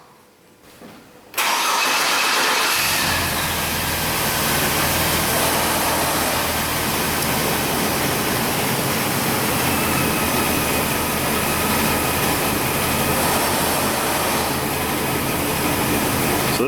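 A car engine with a suspected oxygen sensor fault and vacuum leak cranks and catches, then settles into a loud, steady idle that drones on without pause.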